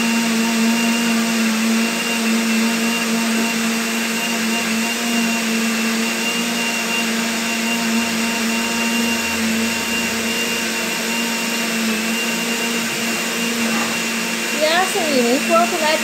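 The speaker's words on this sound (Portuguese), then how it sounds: "liquidificador para você triturar todo esse ingrediente, né? Bora lá, eu vou bater aqui" A kitchen blender runs steadily, grinding vegetables for a vegetable mousse. Its motor drones at a constant loud pitch for the whole stretch, with no voice over it.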